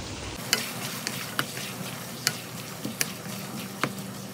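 Pancit canton stir-fries with carrots and oyster sauce under a constant sizzle, broken by sharp, irregular clacks and scrapes of a utensil against the pan. No voice is heard.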